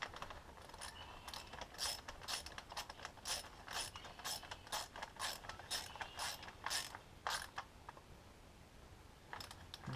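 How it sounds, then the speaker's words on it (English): A ratchet with a 10 mm socket tightens a bolt while replacing coil packs on a 2008 Hyundai Accent GS, giving a quick run of close, crisp clicking bursts in rhythmic strokes, then a pause and a brief final burst. "I'm going to put a bolt here, and again, this whole job takes a 10 millimeter socket."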